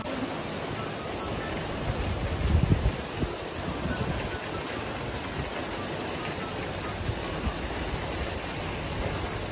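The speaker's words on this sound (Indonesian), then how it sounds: "Hujan." Rain falls steadily as a dense, even hiss throughout, with a brief louder patch of low rumble near the start; no clear talk over it.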